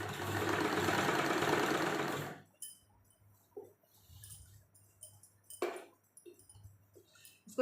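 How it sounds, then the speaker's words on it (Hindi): Sewing machine stitching the sleeve of a size-38 kurti into the armhole, running in a steady, close mechanical whir for about two seconds before stopping, followed by quiet handling clicks and taps. "इसको धीरे धीरे घुमा घुमा के सिलाई लगाएंगे हम, ताकि हमारी आस्तीन में झोल ना आए।"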